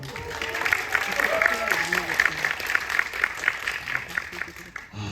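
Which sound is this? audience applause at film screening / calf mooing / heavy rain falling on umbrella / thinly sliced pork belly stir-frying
audience applause at film screening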